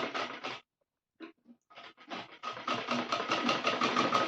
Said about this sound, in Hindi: इस तरीके से सिलाई करते हुए जो हमारा गोलाई वाला भाग है उस पर भी हम गोलाई से ही सिलाई करेंगे।